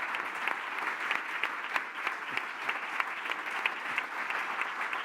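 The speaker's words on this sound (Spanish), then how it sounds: "Aplauso, por favor, también Javier Sierra, ganador del Premio Planeta." A room full of people clapping steadily at the Premio Planeta 2017 literary award ceremony, a warm sustained round of applause with individual claps popping out, no one speaking over it.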